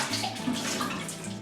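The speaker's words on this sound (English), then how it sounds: "we need to swirl them out with cold tap water" Cold tap water sloshing and swirling inside glass wine bottles being rinsed, a steady close watery rush lasting a second and a half with no voices.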